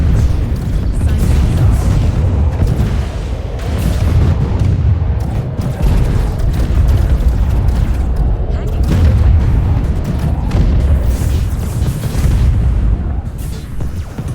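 Loud, continuous explosions and booming weapon fire from a space battle in the AI War 2 video game form a dense, rumbling wall of sound for the whole stretch.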